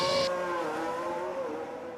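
A Formula 1 car in F1 Manager 24 pulls out of the pit lane at Bahrain, its engine note whining and shifting pitch, fairly faint and alone.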